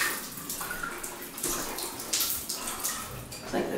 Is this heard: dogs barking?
no